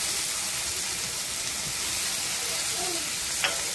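A paneer curry mixture sizzles steadily in a pan, a bright continuous hiss with faint stirring scrapes and a small clink near the end, close and even.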